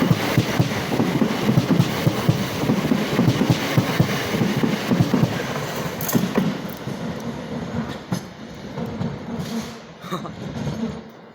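Class 465 unit 46508 leading a train through Sevenoaks station, a loud rumbling roll with rhythmic clickety-clack of wheels that eases off toward the end, with a voice speaking faintly beneath.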